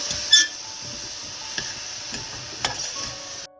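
Banana flower vegetable being stirred in a pan, heard as a faint steady sizzle with a few light scraping clicks from the spoon, one sharper knock near the start and softer taps after it.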